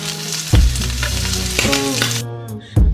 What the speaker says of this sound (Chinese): 虾头先下锅，煸出虾油